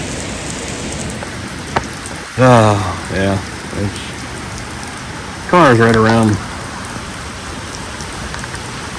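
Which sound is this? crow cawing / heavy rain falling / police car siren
heavy rain falling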